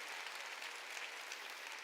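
A church congregation clapping during a sermon, a faint, even wash of applause from many hands, steady and distant for a couple of seconds.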